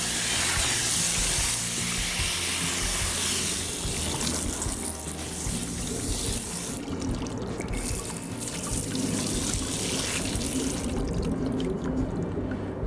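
Water runs steadily as Gold Cube sluice trays are scrubbed clean after gold prospecting, a continuous close rush of tap-like flow and splashing that carries on for the whole stretch without talk.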